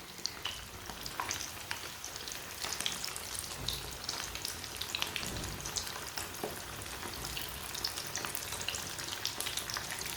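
Samosas frying in hot oil on a stove, a steady close crackling sizzle with light bubbling that runs unbroken throughout, no voices.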